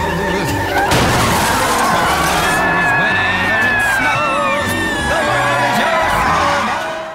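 Cars colliding and skidding in a violent Christmas scene from the TV series Malcolm, a loud crash followed by squealing, wailing tones and shouts over a dense, busy mix that stays loud to the end.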